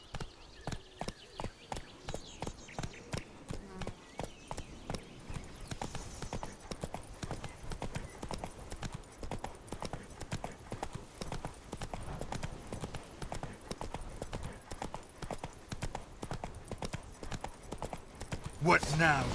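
Roach, a horse in the Witcher game, gallops along in a quick, regular clip-clop of hooves that carries on steadily for nearly twenty seconds, with a louder burst near the end.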